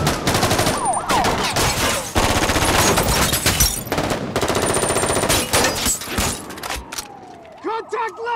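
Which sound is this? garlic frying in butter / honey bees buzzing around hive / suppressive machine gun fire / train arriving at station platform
suppressive machine gun fire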